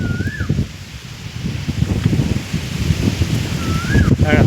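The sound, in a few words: strong wind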